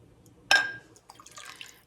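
Broth is poured off a jar of home-canned chicken in a kitchen, opening with a sudden splash and then a soft, close trickle of liquid.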